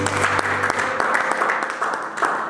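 A church congregation claps and applauds through a French-language sermon on the sealed book of Revelation; dense, loud clapping fills the whole stretch with a few sharper individual claps standing out.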